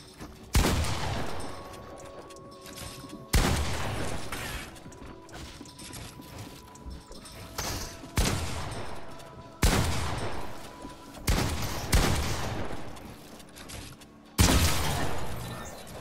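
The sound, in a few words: pump shotgun gunfire in a video game aim-practice map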